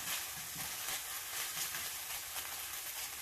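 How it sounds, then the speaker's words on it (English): Spices sizzling in a hot pan for orange chicken, a dense, even frying hiss with faint stirring crackle throughout, close up and without talk. "Sizzling. So, now we've got our spices going."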